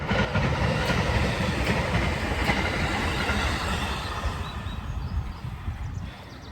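A train passes on a railway in Japan: a close, loud rumble with rhythmic clickety-clack of wheels on rails, slowly fading toward the end.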